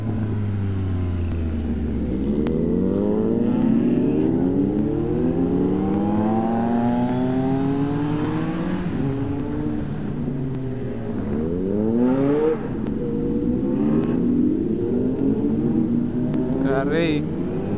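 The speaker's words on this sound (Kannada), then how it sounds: "ಫೆರಾರಿ ನೋಡಿ ಬೇಬೆ." A Ferrari sports car driving past and revving, engine pitch sweeping up and down through repeated throttle blips, loud and nearby with road rumble, while people talk at times.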